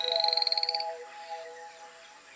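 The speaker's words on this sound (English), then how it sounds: "Poison dart frogs." Poison dart frogs calling, a fast rhythmic series of high buzzy chirps followed by longer sustained tonal trills, clear and close in a quiet setting.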